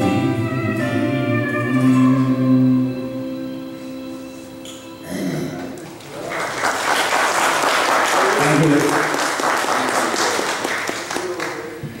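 A church congregation breaks into applause at a Father's Day worship service, starting as a held sung or organ chord and swelling into loud, sustained clapping that fills the room for several seconds.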